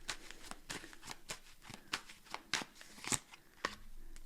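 Tarot cards shuffled by hand in a quiet room: a soft series of crisp riffling flicks and taps in uneven rhythm, close and fairly faint, ending in a few sharper snaps.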